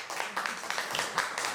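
Audience at a talk on Colombian landscape architecture pioneer Lyda Caldas de Borrero applauds, a dense, steady patter of many clapping hands filling the short moment without a break.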